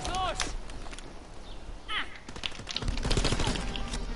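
Bursts of Call of Duty: WWII gunfire crackle and pop over a busy mix of game effects, with a voice talking in Portuguese under the shooting.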